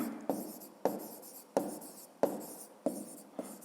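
A pen writes by hand on paper during a fifth-grade math exercise, giving a close, quiet series of about six short scratching strokes spaced evenly, with no voice.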